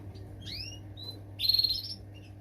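Finches in an aviary chirp and tweet in short, bright calls, a few rising chirps followed by a louder burst of trilling, fairly close with a low hum underneath.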